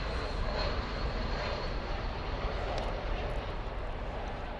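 An American airliner arriving at DFW Airport roars steadily as a broad, loud engine rumble across the whole stretch, with no voices.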